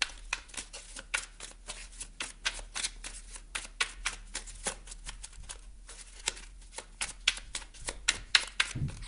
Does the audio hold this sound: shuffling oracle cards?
yes